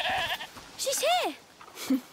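A goat in the video game A Plague Tale Requiem lets out a single wavering bleat midway through. Characters speak around it, and a fainter second call follows near the end.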